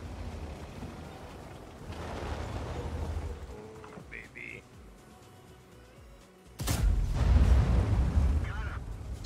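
Gunshots in a video game come as a couple of booming reports with a heavy, loud blast near the end, mixed with rumbling game ambience and a brief talking voice.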